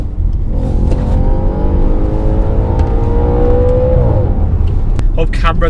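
Audi RS4 with an S-tronic dual-clutch gearbox, its engine and exhaust droning loud and close under load, pitch climbing through a run with a crackle as revs drop near the end, heard from inside the car.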